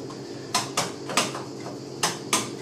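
A metal frying pan clanks against a stovetop several times, sharp knocks in an irregular rhythm, close and fairly loud.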